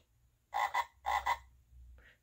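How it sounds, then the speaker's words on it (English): Two paired frog croaks from a children's sound book, a short double-pulsed call repeated once, played alone and fairly close, followed by a faint brief tail. "to see another frog."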